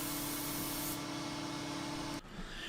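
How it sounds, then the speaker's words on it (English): Steady, loud hiss of Deft satin lacquer being sprayed onto a walnut and cherry aquarium cabinet in a shop, running continuously before cutting off abruptly near the end, leaving quieter shop air noise. "She loves to do spray-on lacquer."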